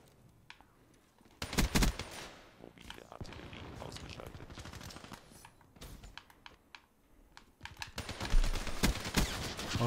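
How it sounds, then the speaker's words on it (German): Gunfire in the shooter game Black Ops 3 comes in sharp, loud bursts and rapid volleys that break up quieter stretches of clicking and movement, with the heaviest shooting near the end. "dann kommen diese 1000 Schüsse reingeflattert."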